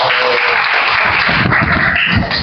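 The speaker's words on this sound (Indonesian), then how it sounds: "Oke, tepuk tangan." A classroom of students applauds after a group presentation, steady dense clapping filling the room for a couple of seconds and fading slightly at the end.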